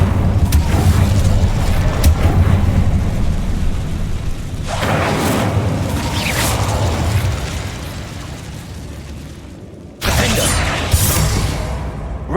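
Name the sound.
Bombarda and Incendio spell blasts in Hogwarts Legacy video game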